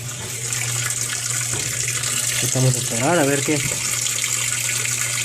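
A Mabe Aqua washing machine fills with water for a high-temperature wash, a steady rushing gush close by while someone talks over it.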